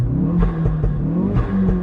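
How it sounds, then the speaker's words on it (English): A Ford Focus RS with a pop and bang map revs hard, its low engine drone rising and falling over a couple of bursts. Sharp crackles break through close and loud, with no talking. "Why do you need a pop and bang map?"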